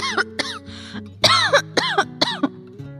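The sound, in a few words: cough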